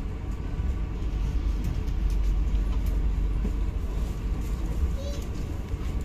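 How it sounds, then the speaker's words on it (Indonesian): The Blambangan Express passenger train sets off with a dense, steady low rumble that runs throughout, mixed with faint background voices of passengers. "Kita mulai perjalanan naik kereta api Blambangan Express"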